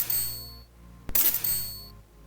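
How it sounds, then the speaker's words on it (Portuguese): A wingsuit video game's money sound effect built from white noise: a sharp bright burst with a sustained high shimmering chime tone before and after, short and clean with no talk. "Aí tem o som de dinheiro."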